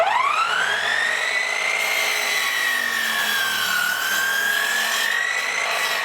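A chop saw cutting through wood for a workshop floor, a loud, close motor whine that rises sharply at the start and then holds steady with a wavering pitch as the blade bites through the board.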